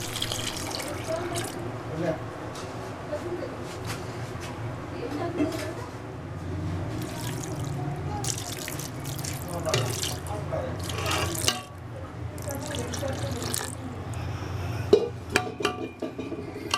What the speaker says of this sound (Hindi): गोश्त के बराबर पानी डाल देंगे।